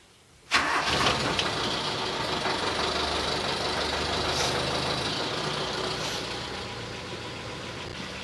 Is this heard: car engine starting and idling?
yes